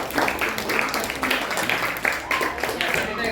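Classroom applause for a student discussion group, uneven clapping from a modest number of students with distinct sharp claps standing out, lively and close, with some voices mixed in.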